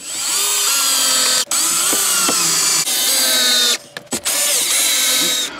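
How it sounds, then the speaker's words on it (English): A cordless drill drives small hex head screws in close, loud whirring bursts whose pitch rises and falls with the load, broken by a few short stops and restarts. "I'll just grab my drill and connect it on."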